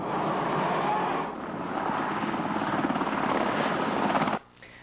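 A Brazilian Air Force aircraft returning to Campo Grande gives off a loud, steady engine drone with a throbbing pulse that stays close, then cuts off abruptly just before the end.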